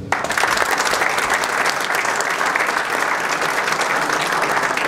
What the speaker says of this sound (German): Ich denke, es ist auch ein Applaus wert